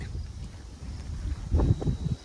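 Strong wind gusting across an open hill at an overnight campsite, a low rumbling buffet on the microphone that swells into a louder surge near the end.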